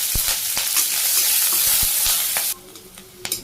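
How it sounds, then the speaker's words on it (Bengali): Cumin seeds, chopped onion and green chili fry in hot oil with a loud, steady sizzle and frequent stirring scrapes, the hiss dropping off sharply near the end, leaving a few spatula knocks. "আমি আবার তেল দিয়ে দিলাম সামান্য জিরে পেঁয়াজ কুচি কাঁচামরিচ"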